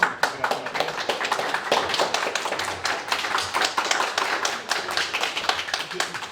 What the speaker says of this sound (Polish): Brawa raz jeszcze.